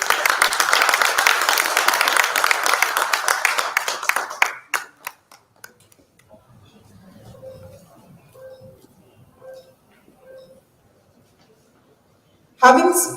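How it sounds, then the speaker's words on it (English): Audience applause at a technology conference, a dense wash of clapping for about four seconds that breaks off abruptly, followed by quiet room sounds and a few faint scattered claps, then a brief loud burst at the end. "Can we have a huge round of applause?"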